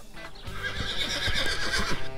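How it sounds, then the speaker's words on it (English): A small bucking rodeo horse in San Antonio gives a loud, close whinny that lasts about two seconds, with faint hoof clops underneath. "he's got a bucky little horse"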